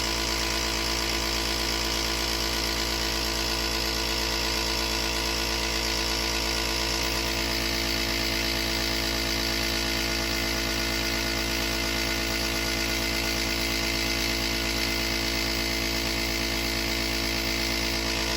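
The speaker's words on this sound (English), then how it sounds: "I'm going to turn off this obnoxious compressor" An air compressor running steadily throughout model boxcar weathering, a constant close mechanical drone with a broad hiss, unchanging and loud, with no pauses.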